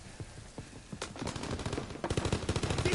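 Gunfire in the World War II shooter Call of Duty WWII starts faint and sporadic, then turns into dense, rapid cracks of rifle and machine-gun fire that grow louder and more continuous toward the end.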